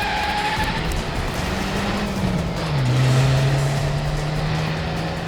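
A car pulls away in a chase, its engine note rising and then holding steady at a fairly loud level, with a brief tire squeal over the start and road noise throughout.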